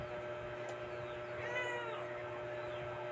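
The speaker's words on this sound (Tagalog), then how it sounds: "Nagsalita pa ang aking pusa." A cat meows near a funfair entrance, its rising, wavering calls standing out over a steady crowd-and-machinery hum with no talk.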